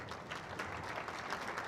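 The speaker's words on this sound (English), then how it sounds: "one big round of applause for our 3 seniors" Applause from a gym crowd at a girls' high school basketball game between Pueblo County Hornets and Pueblo East Eagles, honoring three senior players; steady, dense clapping held at a faint, distant level throughout.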